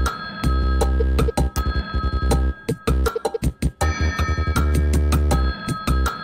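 An old-fashioned telephone ring from the Incredibox music game, woven into a loud, dense looping beat with steady rhythmic hits and layered musical tones throughout.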